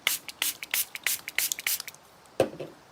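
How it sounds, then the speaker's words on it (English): A hand-pumped spray bottle mists water onto a craft card, giving a rapid series of short, sharp hissing bursts at close range, then a pause before one final louder spritz. "I'm just going to spray this with a bit of water"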